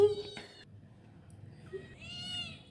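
A cat meows close by near a window grille, giving a short cry at the start and another drawn-out meow near the end, with a quiet room murmur between.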